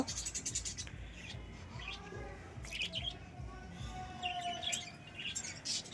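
Faint bird chirps and scratchy rustling come and go over a low background rumble, like birds moving about in an enclosure.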